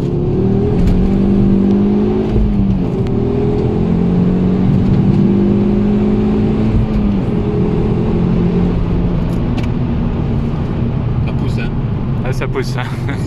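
An apple-green Ford Focus RS accelerates hard, its engine droning loudly and rising in pitch through a couple of gear changes from inside the cabin, with people talking over it.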